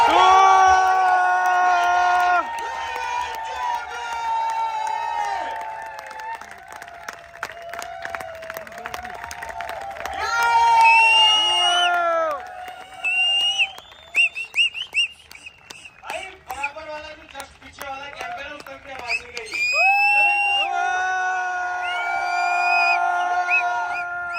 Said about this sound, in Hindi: लोगों की जोरदार तालियों के बीच खड़े होकर स्टैंडिंग ओवेशन और जोरदार होटिंग और जोरदार तालियों के बीच